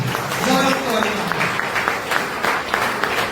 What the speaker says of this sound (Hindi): तो उनके मान सम्मान में एक बार शानदार वाली तालियां तो होना चाहिए।